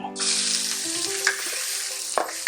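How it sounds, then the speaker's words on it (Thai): Loud, steady sizzling of garlic stir-frying in a thin, hot pan, with a few scraping stirs breaking through the crackle. "ผัดกระเทียมให้หอมก่อนค่ะ"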